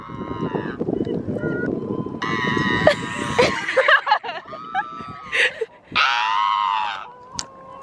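A person lets out high, wavering squawks and cries, mimicking gull calls, in short bursts mixed with laughter and chatter nearby.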